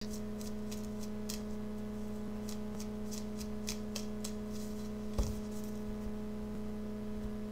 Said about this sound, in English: let me shuffle for an outcome card